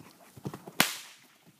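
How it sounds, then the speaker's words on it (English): A horse whip cracks once, a sharp loud snap in the middle of a quiet stretch, with a few soft low thuds and rustles just before it. "Once he starts to relax a little bit, I'll bring that whip back on."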